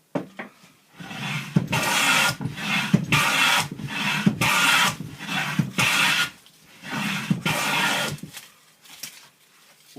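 A hand tool shaves pine wood in repeated long rasping strokes, each a second or so, loud and close with short pauses between.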